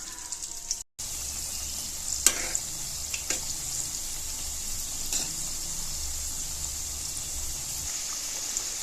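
Banana flower vadai frying in hot oil, a steady close bubbling sizzle with faint crackles and a few sharp pops, continuous apart from one brief break near the start.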